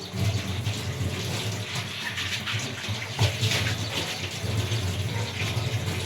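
Tap water runs steadily in a home kitchen sink while bowls are washed, a continuous close rushing stream with faint clinks of dishes, lasting several seconds without voices.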